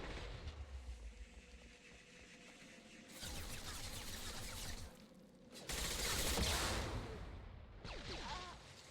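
Gunfire in the sci-fi shooter game Mass Effect 2: dense, sustained bursts of rapid shots that swell in waves, with loud stretches separated by brief lulls and no talk.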